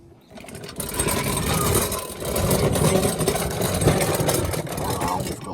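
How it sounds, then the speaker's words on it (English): A torch flame roars steadily under a 1999 Chevrolet Tahoe as it heats a seized O2 sensor, a loud continuous hiss starting after a brief quiet moment and holding to the end. "So let me get my torch"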